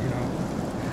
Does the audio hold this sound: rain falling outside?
yes